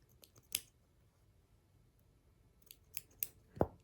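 Several crisp scissor snips cut through tea-dyed fabric while a lace-trimmed country cottage stitchery block is tidied, with isolated cuts spaced irregularly and a sharper, louder final snip up close.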